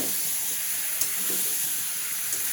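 A pan of meat being slow-fried in kosha style gives off a steady, soft hiss and sizzle, close and continuous with faint scraping ticks.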